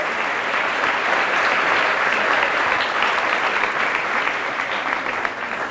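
Sustained applause from a church congregation during a Catholic service, dense steady clapping filling the room at full strength for several seconds with no pauses.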